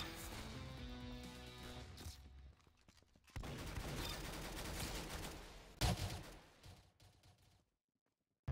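Rapid gunfire bursts fill the Roblox Arsenal shooter match on a Tuscan map, dense and loud over game music and effects, then a sharp final shot before the sound cuts to near silence.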